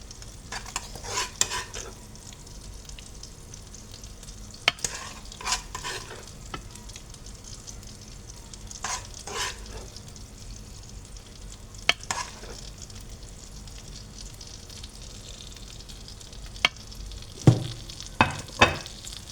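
Salmon sizzles steadily in a pan with sauce while a utensil stirs and scrapes, with occasional sharp clinks against the metal.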